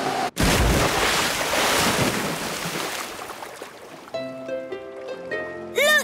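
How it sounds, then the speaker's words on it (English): Cartoon seaplane splash-down into the open sea: a loud broad rush of surf and wind-like water noise fills most of the clip, then fades into light musical tones with a brief swoosh near the end. "Prepare for a big splash."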